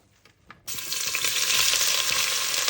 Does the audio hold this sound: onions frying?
yes